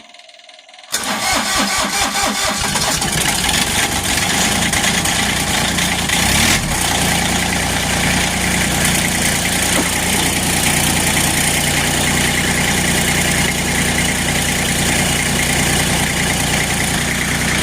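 A Massey Ferguson GC1723E compact tractor cold-starts in below-freezing weather after the glow plugs warm, catching abruptly and then settling into a loud, steady, close diesel idle that continues alone.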